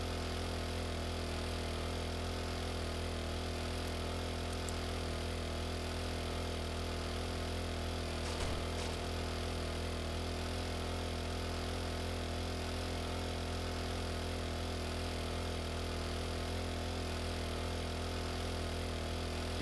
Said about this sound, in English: Why is my mini bike so slow?